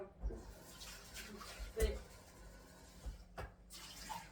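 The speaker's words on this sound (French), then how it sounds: "il faut que je vide l'eau. Je vais quand même le rincer." Water runs and splashes in a kitchen sink as a bowl used for chopping garlic is emptied and rinsed, in short uneven bursts with clunks of the bowl, fairly quiet and close.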